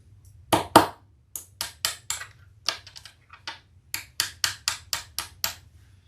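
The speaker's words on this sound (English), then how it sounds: "So you might have to do a little pounding to get them on." Hardware pounded onto a sewn Ellana handbag: a series of sharp, close taps in uneven bursts, roughly fifteen strikes, each distinct with silence between, no talk.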